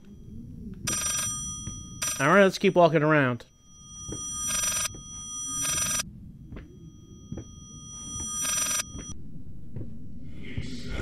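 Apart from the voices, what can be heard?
telephone ringing, from video game Layers of Fear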